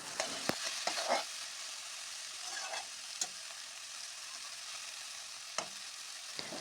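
Pumpkin frying in a pan as its water cooks off, stirred with a few scattered scrapes and clicks of the utensil over a steady, fairly quiet sizzle.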